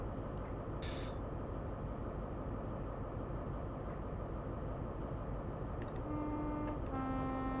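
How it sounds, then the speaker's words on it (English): Horn of a train in the Train Sim World game, on the Great Western Express route, sounds in a couple of short toots near the end over a steady, continuous rumble of the moving train. "There's a train coming, we've got to toot him."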